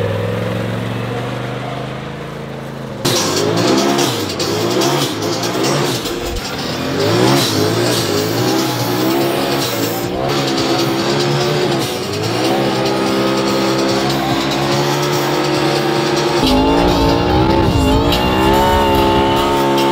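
Side-by-side off-road vehicle at an ice fishing derby revving hard and spinning its tires in a burnout, a loud sustained engine roar kicking in after a quiet start, with repeated surging revs close by.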